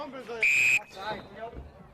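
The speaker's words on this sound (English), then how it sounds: "That one gets whistled and called back." A referee's whistle blasts once, short and sharp, at a ball hockey game in an arena. The shrill tone sits amid crowd murmur and a commentator's voice.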